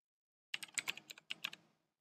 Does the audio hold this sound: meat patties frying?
no